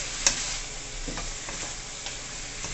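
Pepper steak, a beef dish, fries in a pan with a steady, close sizzle, while a spoon stirring it gives a few faint scraping taps.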